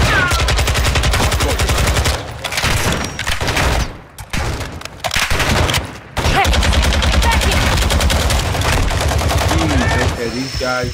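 Loud, dense gunfire in Warzone 2.0 DMZ rattles in sustained automatic bursts, briefly pausing twice before resuming, with a voice speaking over the shooting.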